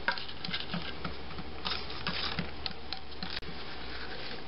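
Dry herbs and spices for New York style pizza sauce, garlic powder among them, stirred together in a bowl, giving soft, steady patter and light scraping, close and quiet, with no talking.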